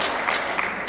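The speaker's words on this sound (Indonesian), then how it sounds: "saya minta supaya memberikan tepuk tangan kepada panelis yang ada di depan sini" Seminar audience clapping for the panelists at the front of the room, a short burst of dense applause heard alone.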